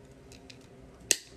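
Pliers or cutters snip paperclip wire coils for a chainmail glove, one sharp metallic cut standing out near the end after faint earlier handling noises in a quiet room.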